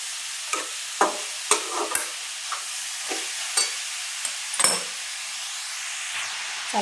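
Tomatoes and radish for a chutney stir-fry in oil, a soft background sizzle broken by repeated spatula scrapes and clacks against the pan at irregular intervals.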